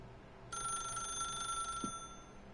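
A telephone rings in The Stanley Parable: one sustained electronic trill, steady and clear, lasting over a second against a quiet room hum, with a soft low thump near its end.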